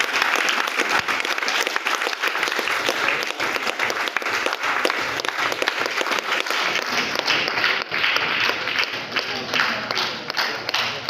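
A large audience at a welcome and honouring ceremony gives loud, sustained applause that keeps up for several seconds. The clapping forms a continuous roar with a faint crowd murmur beneath it.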